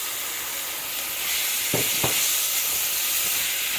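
Brown rice with onion and garlic hits a hot pan and toasts, a steady bright sizzle and hiss with a couple of louder clatters as the grains drop and are stirred.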